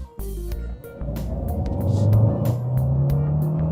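A 2026 Kia Sportage Turbo Hybrid engine rises in pitch as it accelerates in sport mode, a steady climbing drone after a few brief knocks, heard from inside the vehicle.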